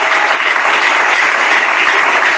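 Sustained, dense applause from a church congregation during a Sunday sermon in Dolisie, steady and loud throughout with no pauses or speech.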